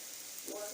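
Quartered tomatoes dropping into a hot frying pan for a Basque piperade, giving a steady close sizzle that swells briefly as they land.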